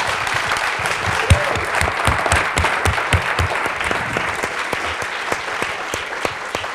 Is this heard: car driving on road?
no